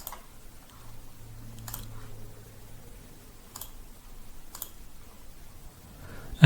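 Several sharp, sparse computer mouse clicks sound close by against a quiet room background, spaced irregularly a second or more apart.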